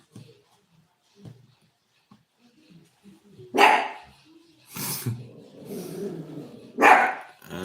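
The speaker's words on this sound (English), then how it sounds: "Puppies." Puppies bark in short, sharp bursts indoors, several loud yips spaced a second or two apart with quieter whimpers and rustling between them, close by.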